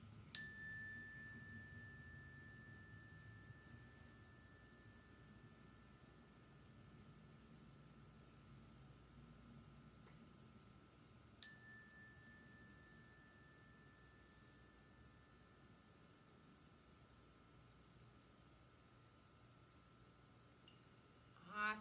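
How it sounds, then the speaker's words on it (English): A single struck chime rings out clearly and slowly decays over many seconds in a quiet classroom, followed by a second strike partway through that also fades away, with faint room hiss underneath. "I want you to listen for the sound of the chime as long as you can."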